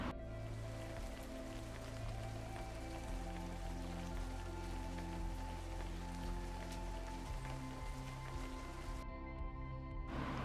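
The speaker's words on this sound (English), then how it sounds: "the rain keep falling outside" Steady rain falling outside, a continuous even patter that runs for the whole stretch alongside a soft sustained musical background.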